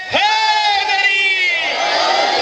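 A crowd at a Muharram majlis chants the slogan Haidari in unison, a loud sustained collective voice swelling and holding, close and filling the space.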